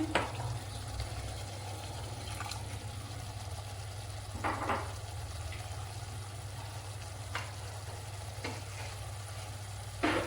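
Masala frying in a pan gives a low, steady sizzle with a few soft stirring scrapes now and then, close but quiet.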